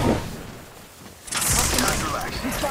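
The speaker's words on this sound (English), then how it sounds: "Shots fired!" Gunfire in the video game Apex Legends: a quiet stretch, then a dense burst of rapid shots and explosions erupting mid-clip and continuing loudly to the end, with a voice talking over it.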